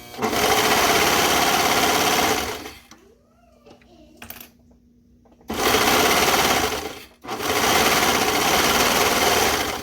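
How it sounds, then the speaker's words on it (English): Sewing machine stitching curved seams on jogger pants runs loud and steady in two long bursts, pausing briefly in between while the fabric is repositioned, with faint handling sounds during the pause. "go ahead and sew those curves together"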